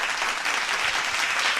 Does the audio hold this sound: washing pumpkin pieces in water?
no